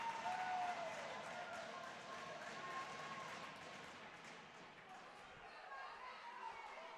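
Crowd noise in a hockey arena during a youth playoff game after a goal, a diffuse roar of cheering with a faint tune overhead, steady and distant, easing slightly toward the end.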